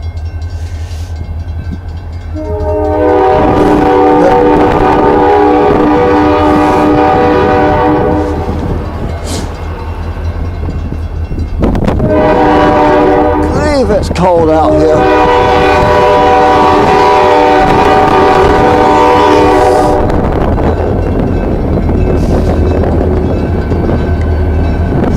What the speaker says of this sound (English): This time it really is the train.